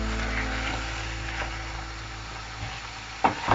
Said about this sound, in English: And we will let it simmer now.